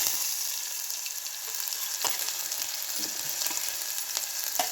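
Cumin, curry leaves and finely chopped green chilli frying in hot oil in a kadhai, a steady close sizzle with scattered crackles and pops, no talking.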